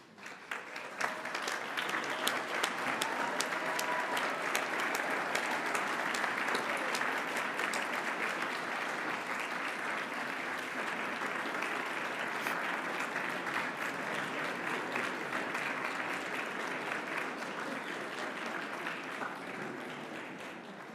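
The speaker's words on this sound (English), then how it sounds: "acknowledge their past support and commitment to your future with a hearty round of applause" Hearty applause fills the hall at the Jewish Theological Seminary's 129th commencement ceremony. It is a long, even wash of many hands clapping, held at a steady level before thinning slightly at the close.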